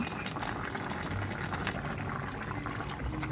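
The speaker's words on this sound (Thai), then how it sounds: "น้ำเดือด" Water with spaghetti in it bubbles and churns at a steady rolling boil in a pot, close up, a continuous busy gurgle with no voices.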